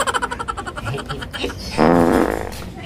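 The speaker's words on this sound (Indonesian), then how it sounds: "Lu kentut ya Bang." A fart rips out loud and close, a buzzy, rattling burst lasting about a second, following a stretch of voices and other noises.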